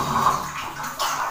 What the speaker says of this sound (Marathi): हे बघा पाणी आलं, बाप रे